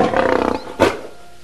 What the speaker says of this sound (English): That's a lion roaring.